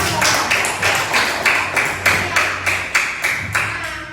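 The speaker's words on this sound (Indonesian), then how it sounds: "Beri aplaus, tepuk tangan dulu untuk kita." Students in an Indonesian classroom clap their hands together in a steady rhythmic pattern, about two claps per second, loud and close, with faint voices underneath.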